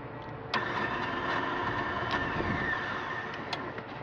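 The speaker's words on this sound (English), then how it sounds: "when I touch it, it's like I'm igniting, starting the car." A Hyundai car engine cranking as its ignition wires are touched together to bypass the key, a steady mechanical starter whir with a few sharp clicks, close up and continuous.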